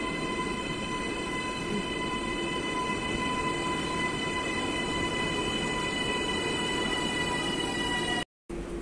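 Steady rumble and rattle from inside a moving passenger train, a constant loud drone with wheel noise and faint high squeal throughout, cut off briefly at the very end.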